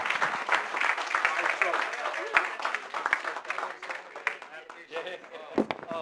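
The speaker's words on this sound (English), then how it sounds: "Once more, a round of applause here." Audience clapping at a Know India Program event at Pravasi Bhawan, a dense, steady patter of many hands lasting several seconds, fading slightly toward the end, with some voices mixed in.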